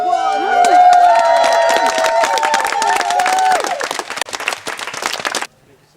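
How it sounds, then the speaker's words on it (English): An audience applauds and cheers loudly while a voice rings out over the clapping, which thins out and stops abruptly near the end. "Give yourselves a round of applause."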